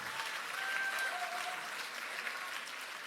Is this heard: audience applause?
yes